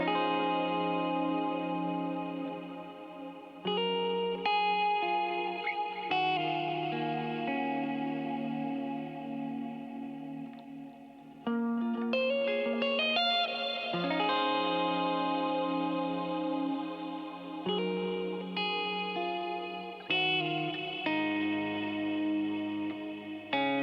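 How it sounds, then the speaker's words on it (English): Closing passage of a progressive metal song, played on heavily effected electric guitar with distortion, chorus and echo, sustained ringing chords and melodic lines, loud and continuous with brief breaks. "this last bit you're about to hear on the guitar"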